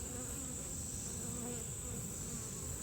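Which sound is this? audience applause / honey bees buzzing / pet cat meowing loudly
honey bees buzzing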